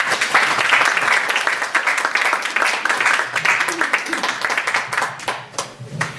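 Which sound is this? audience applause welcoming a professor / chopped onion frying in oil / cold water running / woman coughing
audience applause welcoming a professor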